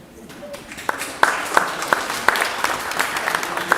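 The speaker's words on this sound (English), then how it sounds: "Give them another round of applause." Audience applause at a Cub Scout pack banquet and crossover ceremony: a steady wash of clapping with sharper individual claps popping out, rising in strength after the first second and holding through to the end.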